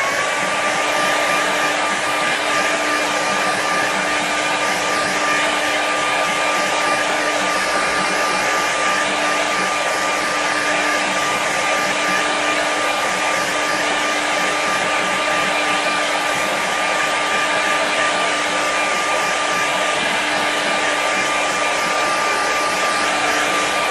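A hair dryer blows steadily and loudly for the whole stretch, drying paint on a painting propped on plywood against an easel, with a constant whirring hum and no pauses.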